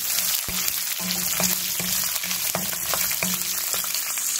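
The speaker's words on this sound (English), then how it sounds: "So just now I added the split green chilies" Split green chilies sautéing in a pan for watermelon rind curry: a steady close frying sizzle broken by regular spatula scrapes and taps, about two per second, with no talk.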